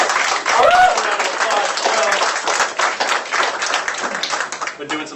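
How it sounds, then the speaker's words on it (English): Audience at a club general meeting breaking into a round of applause, dense clapping that tapers off toward the end, with a voice briefly over it. "Give me a round of applause."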